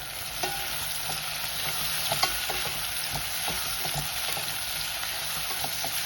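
Steady sizzling of onions frying in a hot pan, continuous and close, with occasional soft stirring scrapes and no voices.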